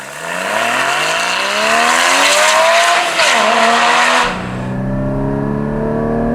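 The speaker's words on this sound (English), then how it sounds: "Sound is surprisingly good considering the motor's not that big and there's not really that much power." Porsche Cayman GT4 engine, loud and close, climbing steadily in pitch under hard acceleration for about four seconds, then dropping abruptly to a lower, steadier drone as the driver shifts or lifts off.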